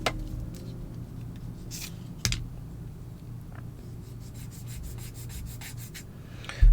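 A nail file rasps across fingernails in quick, close back-and-forth strokes, with a sharp tap partway through and a rapid run of short strokes near the end.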